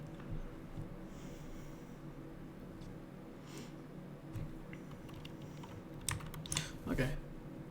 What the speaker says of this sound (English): I'll wait a minute for everyone to type